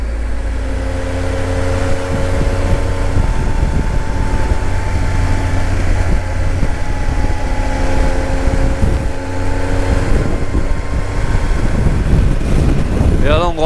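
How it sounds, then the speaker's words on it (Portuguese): Steady wind buffets the microphone over a constant low rumble while travelling on the road outdoors, with no clear voices. "mas o vento tá bem brando, tá bem tranquilinho"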